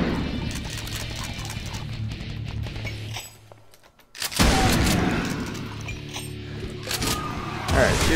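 Dense gunfire and booming explosions in Brutal Doom roar almost without pause, broken by a short near-silent gap before a heavy blast kicks the chaos back in.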